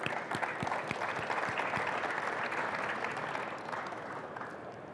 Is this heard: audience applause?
yes